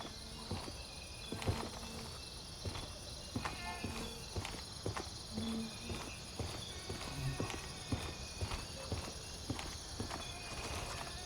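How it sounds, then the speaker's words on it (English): Footsteps in the video game Gray Zone Warfare, a steady run of soft scuffing steps under a constant hiss of insect-like ambient noise, faint and somewhat distant. "I hear footsteps."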